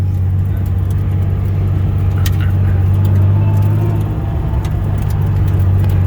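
A drift car with a failing transmission drives along in a loud, steady, droning engine and drivetrain hum recorded from inside, with no clear revving changes over the few seconds.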